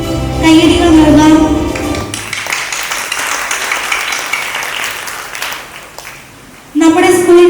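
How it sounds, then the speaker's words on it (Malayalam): An audience at a school annual day applauds the teachers, a steady wash of clapping that lasts several seconds. Amplified speech over a sound system comes before and after it. "വിദ്യാലയത്തോടുള്ള ഇവരുടെ സമർപ്പണത്തിന് മുന്നിൽ നമുക്കെല്ലാവർക്കും കയ്യടികൾ നൽകാം."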